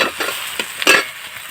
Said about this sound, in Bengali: সেদ্ধ করা আটার পিসগুলো আমি এর মধ্যে দিয়ে একটু নাড়াচাড়া করলাম